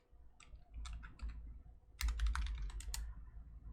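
A command typed on a computer keyboard, quick bursts of close key clicks in two clusters with a short pause between, the second burst louder and denser, no talking.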